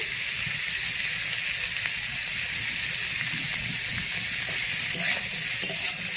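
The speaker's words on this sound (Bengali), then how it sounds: "ফুলকপি ঢেলে দিয়ে এবার আমি ভাজা ভাজা করব।" Cauliflower and potato fry in a pan, making a steady, moderately loud hiss of oil that continues evenly throughout, with faint occasional ticks.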